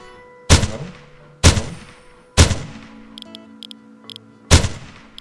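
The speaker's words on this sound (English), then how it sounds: "Maybe just shoot straight." Four loud, sharp rifle shots in a bullet trajectory shooting video game, each one cracking close by and dying off in a ringing tail, spaced about a second apart, with small metallic pings in the gaps.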